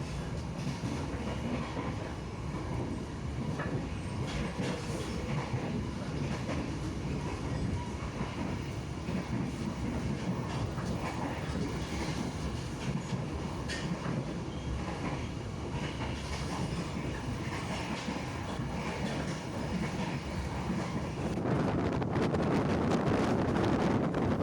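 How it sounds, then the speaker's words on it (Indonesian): Kaligung passenger train wheels clatter rhythmically on the rails under a constant rumble and wind buffeting, steady throughout and swelling louder toward the end. "Irama roda kereta berpadu dengan semilir angin sawah"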